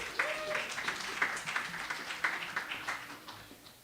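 An audience claps at a debate event, a soft, fairly distant patter of applause that tapers off over a few seconds.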